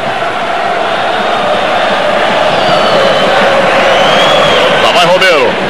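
A packed Brazilian crowd roars without pause at the 1982 futsal world final against Paraguay in Ibirapuera, São Paulo, a dense, loud wall of cheering that swells near the end while a commentator talks over it.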